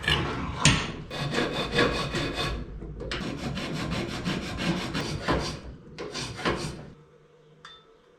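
A hand file rasps against wood to sharpen internal corners, in steady back-and-forth strokes in several bursts with short pauses, close and fairly loud, with no talking.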